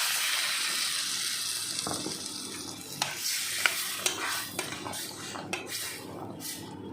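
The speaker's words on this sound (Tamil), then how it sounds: "எல்லா பக்கமும் இந்த எண்ணெய் மசாலா எல்லாம் ஒன்றோட ஒன்று பிளெண்ட் ஆகணும் இப்போது கொஞ்சமாக தண்ணி ஆட் பண்ணிக்கலாம்" Oil and masala frying for a dried fish curry as water goes in, giving a steady sizzle with a spoon stirring and several sharp clinks against the pan.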